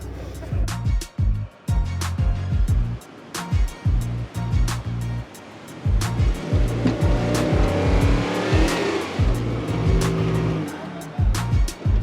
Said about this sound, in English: Tires spinning.